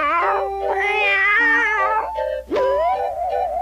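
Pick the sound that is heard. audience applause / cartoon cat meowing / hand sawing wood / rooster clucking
cartoon cat meowing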